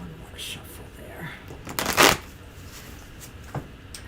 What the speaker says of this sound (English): One more shuffle there.